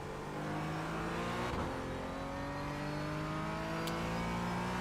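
A race car engine hums in a sim racing game at Silverstone, a steady loud droning whine held for several seconds with a faint tick partway through, no voices.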